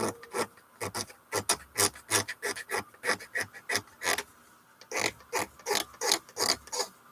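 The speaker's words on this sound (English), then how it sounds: "what we've been doing is scraping and scraping so we can get all that plastic glue off." Repeated scraping strokes as plastic glue is scraped off a wooden guitar bridge, a steady rhythmic series of close, rasping rubs with brief pauses between them.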